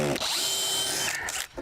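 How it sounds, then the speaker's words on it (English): A power drill backs screws out of deck boards in one close, loud whirring burst lasting just over a second before it cuts off. "We'll take as many screws out as we can."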